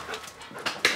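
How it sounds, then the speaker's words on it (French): A sniffer dog of a French gendarmerie unit whimpers and sniffs in short bursts, close by, with a few quick snuffling breaths. "Le chien renifleur va aussi faire quelques découvertes."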